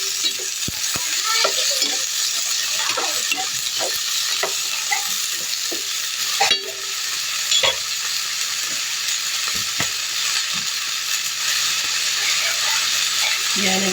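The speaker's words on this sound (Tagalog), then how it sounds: "Yan, nagisa ko na siya." Food sautéing in a frying pan while a morning breakfast dish is cooked, giving a steady bright sizzle across the whole stretch with occasional scrapes and clicks of a utensil stirring.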